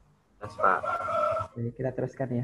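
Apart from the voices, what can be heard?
rooster crowing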